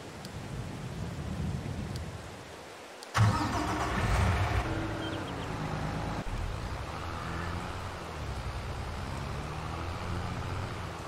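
A tractor in the Farming Simulator 22 video game starts up with a sharp jolt, then drives toward the sheep barn with a steady mid-pitched engine drone, with rain-like hiss in the background.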